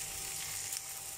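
Ampalaya frying with garlic and onion in a pan, giving a steady, soft, even sizzle that carries on without a break and with no voices over it.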